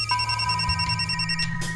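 A telephone rings in a domestic scene from the Indian crime drama series Savdhaan India as a steady electronic ringtone with sustained high tones. A short, close pulse runs about two seconds and is heard alone, with no talk over it.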